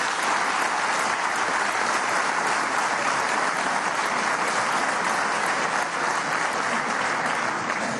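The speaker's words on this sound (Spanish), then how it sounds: "Un aplauso para Chávez." Sustained, dense applause fills a large assembly hall in honour of Chávez during a session of Venezuela's National Constituent Assembly, steady and loud throughout without a break.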